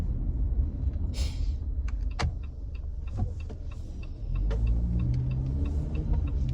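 A car heads onto a highway in Canada, heard from inside as a steady low road rumble with a scattering of light clicks and ticks, the engine note rising slightly partway through.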